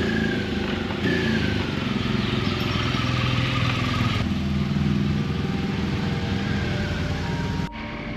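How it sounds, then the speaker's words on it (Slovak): Motorcycles being packed up to leave Sarajevo on a Balkan road trip, their engines running steadily and loudly throughout with a brief shift near the end, no voices. "Prišiel však čas pobaliť motorky a vydať sa ďalej."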